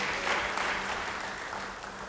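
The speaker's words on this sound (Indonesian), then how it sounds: "beri tepuk tangan yang baik bagi dia" A church congregation bursts into applause during a sermon, a full, dense round of clapping that holds steady and gradually eases off, with a low hum underneath.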